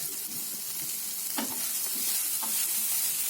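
Tomato and spices for horse gram chutney, with a little tamarind and salt, sautéing in a pan, giving a steady close sizzle with a couple of sharp spatula scrapes and stirring clinks.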